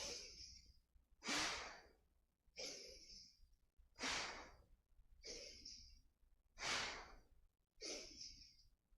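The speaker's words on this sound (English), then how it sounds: "So we'll continue this now in a more forceful breath." Forceful kundalini-style yoga breathing: seven strong, rhythmic breaths alternating sharp inhales and long airy exhales, close and clear, with no talking.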